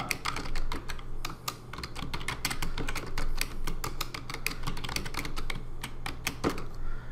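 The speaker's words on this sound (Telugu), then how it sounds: "నేను ఏదైనా టెక్స్ట్ టైప్ చేస్తా" Rapid, steady clicking of keys on a computer keyboard as text is typed into graphics software. The close, crisp keystrokes run continuously with short pauses and no voices.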